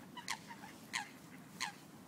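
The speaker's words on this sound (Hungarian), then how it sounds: "legalább a kacsákat, libákat megetettem" Ducks and geese on a shoreline being fed give three evenly spaced honking calls about two-thirds of a second apart, moderately near, over a low background murmur with no talk.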